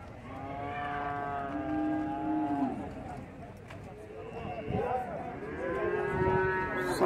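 Several cattle at a traditional livestock fair in São Bento do Una, Pernambuco, give long, drawn-out moos in turn, close and loud over a murmur of crowd background.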